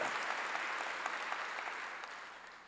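A church congregation claps during a pastor's sermon, a soft, fairly distant patter of many hands that fades slightly over a few seconds.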